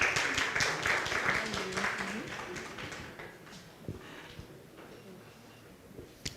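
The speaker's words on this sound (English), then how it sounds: "Let's clap for him." Audience applause at a national secondary schools moot competition, a dense burst of clapping that thins and fades after a few seconds, with voices murmuring underneath.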